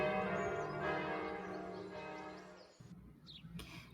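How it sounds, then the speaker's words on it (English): Church bells chiming around the corner, resonant ringing tones sustained and slowly decaying, then a quieter patch with faint higher chimes near the end. "His music joined the chiming of the bells in the church around the corner."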